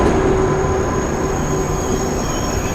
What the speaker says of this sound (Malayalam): ഇതാ വരുന്നു ട്രെയിൻ വരുന്നു ഇതാണ് കൊറിയൻ ട്രെയിൻ എക്സ്പ്രസ്